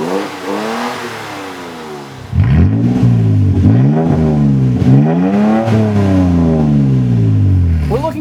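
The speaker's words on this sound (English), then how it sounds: "The Flowmaster Outlaw Extreme single exhaust system with a black tip and a turn down has a race muffler" Toyota Tacoma 3.5L V6 with a Flowmaster Outlaw Extreme single exhaust, race muffler and black turn-down tip, idling briefly before a loud, close series of sharp throttle blips and sustained revs rising and falling.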